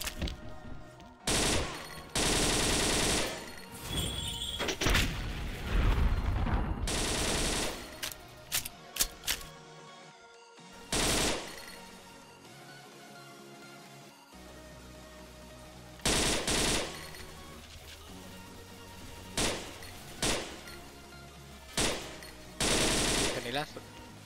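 Bursts of rapid gunfire from a silenced gun in the shooter game XSHOT, played in ghost mode, come in loud, clustered volleys separated by short pauses and quieter stretches.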